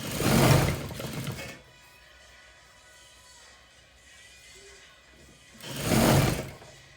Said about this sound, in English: Then I'm gonna go and sew around. And I'm sewing on 1/2 inch seam allowance.